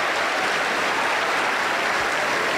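A Pentecostal church congregation in Huancayo claps during a worship service, a dense, continuous wash of applause filling the room at full volume without a break.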